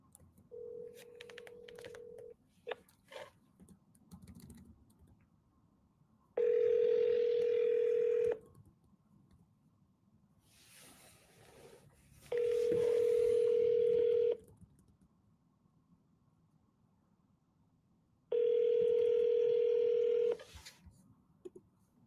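A phone call to a cell number: a few faint dialing blips, then three long, loud ringback tones about six seconds apart, each lasting roughly two seconds, with quiet line hiss between them and no talking.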